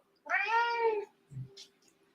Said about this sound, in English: if you itch a cat right here, they'll always, meow